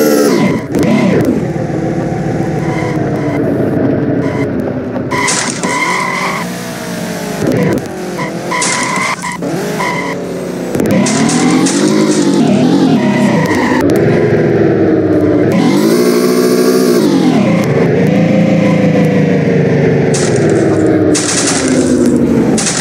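A Lamborghini engine screams through revs in Street Legal Racing Redline, loud and continuous with repeated rising and falling pitch sweeps as gears change, mixed with tire skids and squeals.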